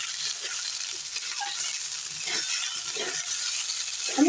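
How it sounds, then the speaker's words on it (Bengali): Tomatoes fry and sizzle in a pan with ginger-garlic paste for a tangra fish curry, a steady close hiss with occasional stirring scrapes throughout. "এবার টমেটোগুলো দিয়ে দেব, দিয়ে আরও কিছুক্ষণ কষিয়ে নেব।"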